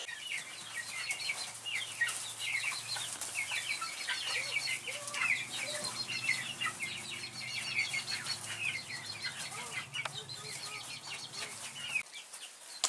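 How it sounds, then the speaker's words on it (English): Flock of 21 hens, including Black Copper Marans, ISA Browns and bantams, clucking and squawking inside a small greenhouse, with bursts of wing flapping, busy and close, no talk. "Hard to believe I had all 21 birds in this tiny little greenhouse here."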